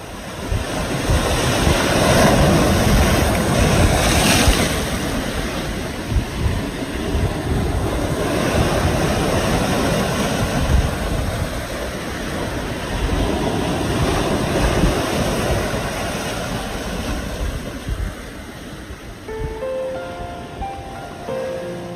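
Ocean surf breaking against the rocky shore below Naksansa's seaside Uisangdae pavilion in Yangyang, a continuous loud wash of waves mixed with gusty wind buffeting the microphone.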